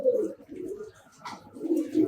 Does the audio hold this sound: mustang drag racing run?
no